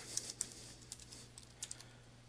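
Someone types on a computer keyboard while entering a date into a Microsoft Access 2013 parameter query; sparse, quiet key clicks arrive in short irregular bursts over a low background hum, with no talking.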